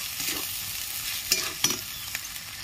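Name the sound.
chopped tomato and ground coriander frying in a pan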